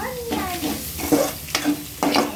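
Egg, onion, cabbage and capsicum stir-frying for chicken fried rice, a steady sizzle broken by about four scraping stirs of a spatula through the pan at a close, moderate level.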